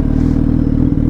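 Suzuki B-King 1340 motorcycle engine fitted with an adapted Ducati exhaust and retaining its catalytic converter, idling loud and close with a steady, deep, throbbing rumble and a slight clatter, no voices.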